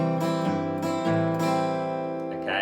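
Guitar chords strummed slowly, about four strums, each ringing out before the next, with no voices.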